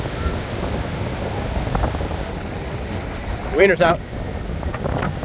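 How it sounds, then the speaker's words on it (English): Strong wind roars across the microphone on a windy Rosarito beach, with surf washing in the background, a constant loud rush throughout and a brief spoken voice near the end. "Now I'm walking against the wind."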